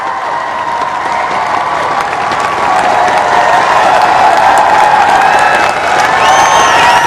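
Home stadium crowd at the SEA Games athletics finals applauding 20-kilometre race walkers, loud sustained clapping and cheering with occasional whoops and whistles throughout.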